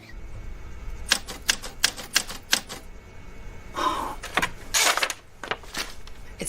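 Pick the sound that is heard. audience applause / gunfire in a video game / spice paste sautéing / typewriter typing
typewriter typing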